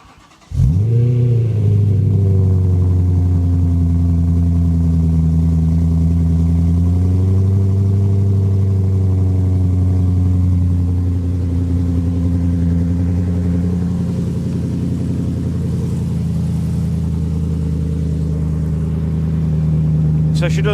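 A BMW E92 M3 with an Eisenmann exhaust fires up on a cold start, cranking briefly before settling into a loud, steady high idle with a deep exhaust drone that eases slightly and then holds.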